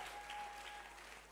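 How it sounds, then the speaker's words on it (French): Faint, steady applause from an audience at the 11th batch graduation ceremony of the CMFI School of Ministry. The clapping is heard from a distance over a low hum. "Acclamez, clap, acclamez, clap. acclamez, acclamez."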